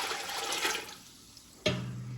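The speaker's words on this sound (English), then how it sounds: "So into our vinegar, we're going to add the 7 1/3 cup of water." Water pours and splashes in a rushing stream into vinegar for canning pickles, fades briefly, then a sharp clunk is followed by a ringing tone.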